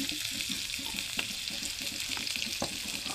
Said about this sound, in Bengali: এই যে মরিচটি ভাজা হয়ে আছে, বুঝছা? ওহনা এই যে রসুন গুলো দিয়ে দিব।